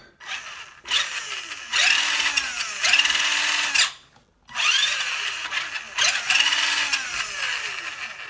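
A Tamiya Blackfoot 2016 RC car's electric motor whines in loud, close bursts that rise and fall in pitch as it revs under power, with a brief silent pause midway.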